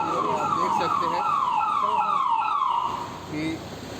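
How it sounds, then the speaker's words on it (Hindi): An ambulance siren wails loudly and steadily in repeated falling sweeps, close by, at the scene where wounded soldiers are brought in after a Naxal attack in Chhattisgarh, fading slightly toward the end. "एक और एम्बुलेंस में जवान को यहाँ पर लाया जा रहा है।"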